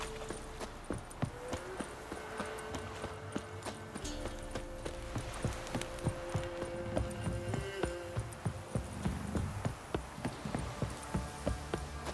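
Rhythmic clip-clop of horse hooves trotting steadily throughout in The Witcher 3: Wild Hunt, moderately near, over a soft background of music and ambience.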